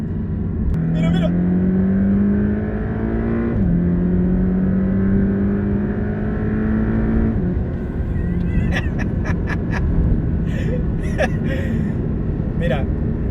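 A Porsche Boxster 718 four-cylinder engine drones steadily as the car drives, pitch climbing through two gear changes before settling, with wind and tyre roar and a voice talking over it.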